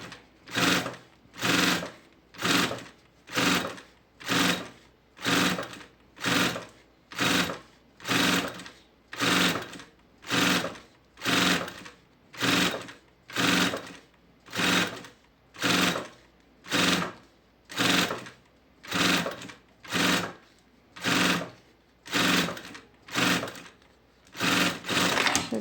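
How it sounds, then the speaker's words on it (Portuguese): Domestic sewing machine with a built-in walking foot (dual feed) stitching a lunch bag panel, running in steady regular bursts about once a second, close and loud, with no talking. "Aqui eu tô usando o transporte duplo com calcador que vem na própria máquina"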